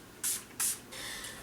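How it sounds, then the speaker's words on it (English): Urban Decay All Nighter makeup setting spray is pumped in two short, loud, hissing bursts close by, followed by a softer, longer mist that fades out. "I'm going to be going in with my Urban Decay All Nighter Makeup Setting Spray"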